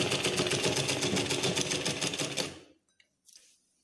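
A sewing machine stitches the waistband seam of a silk pattu pavadai skirt for a baby girl in a fast, even, rapid-fire rattle for about two and a half seconds, then stops abruptly, leaving faint handling noise.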